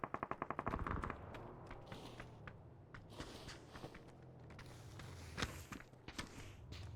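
Rapid bursts of automatic gunfire crack out near and loud at first, followed by scattered single shots and shuffling movement.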